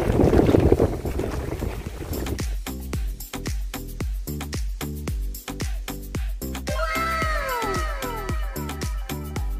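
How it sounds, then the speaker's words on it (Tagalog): Wind gusts buffet the microphone at first, then a steady throbbing motor takes over with the wind still rushing underneath. "Kasi mahangin eh."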